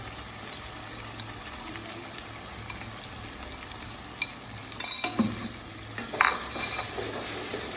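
Onions with chili, turmeric and salt cooking in a pan for a hilsa fish dish, a soft sizzle under sporadic clinks and scrapes of a spoon stirring, with a louder clatter near the end.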